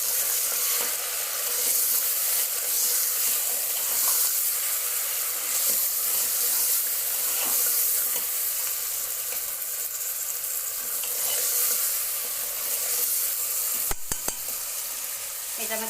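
Goat head mutton pieces are stirred in a sizzling pan, with a constant hiss of frying, soft scraping strokes and a brief clatter close to the end.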